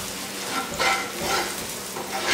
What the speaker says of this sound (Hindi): मसालों को तेल में भून लेते हैं अच्छे से।